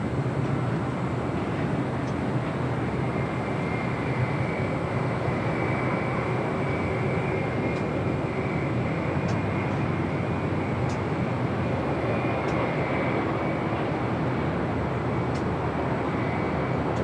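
A United Boeing 787 Dreamliner at LAX makes a sustained, distant jet roar that stays broad and steady for the full length, with faint intermittent clicks on top and no talking.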